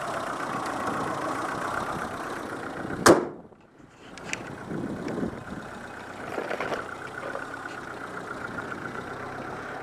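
A Peugeot 205 with the 1100 TU petrol engine idles close by in a steady, low, even drone, interrupted once by a brief sharp knock before the hum settles back in.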